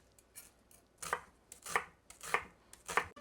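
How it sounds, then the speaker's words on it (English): A knife julienning onions strikes the cutting board in a steady series of crisp chops, about five evenly spaced cuts, close and fairly quiet. "we're gonna julienne our onions, cut the booties off."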